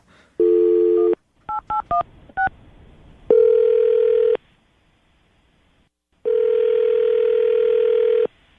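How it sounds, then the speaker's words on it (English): A telephone call being placed: a steady dial tone, then a rapid run of touch-tone keypad beeps, followed by two long ringback tones separated by a pause, all clear and close with no talking. "Lily, we're about to call Mark and see if we can get him on the phone"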